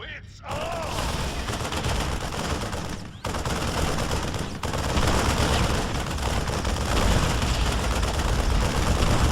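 Thor artillery guns in StarCraft 2 pounding away in a dense, rapid barrage of mechanical bursts and clanks, loud and continuous with brief pauses, amid battle noise.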